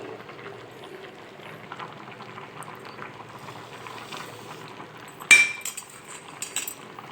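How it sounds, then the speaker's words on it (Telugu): Semiya (vermicelli) boiling in a pot, a steady soft bubbling simmer throughout, with a brief metallic clink of utensil on pot near the end. "సేమియా ఉడుకుతుంది కదండి"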